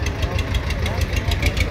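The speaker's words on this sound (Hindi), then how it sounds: "ये देख सकते हैं 3 सिलेंडर अंदर ट्रैक्टर का इंजन आता है" A three-cylinder tractor engine runs at a rural tractor market, giving a steady, close, low rhythmic thumping with a slight knock that continues without a break.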